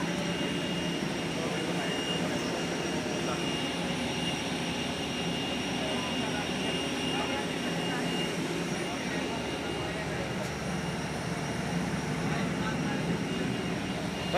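Steady broad roar of an airliner's jet engines at Kuwait airport, continuous and moderately loud throughout with no clear breaks, heard from inside or beside the plane in hot weather.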